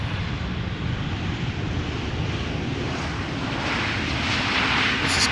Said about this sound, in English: This is KLM flight 1700, 737-800 arriving from Madrid.